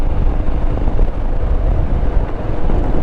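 Breezy outdoor wind at sunset near Selly Oak buffets the microphone in a loud, continuous low rumble with no talking.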